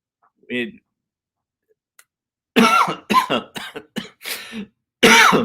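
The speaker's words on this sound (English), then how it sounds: "sorry, I had to cough there." A single short cough from one person, close and fairly loud, followed after a pause by someone talking in several bursts.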